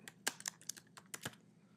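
Keystrokes on a computer keyboard as a client folder name is typed, a quick irregular burst of crisp clicks up close with no talking.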